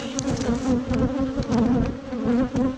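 Agitated honey bees buzz loudly and close at a hive in rainy, stormy weather, a dense droning hum that pulses and swells in waves throughout.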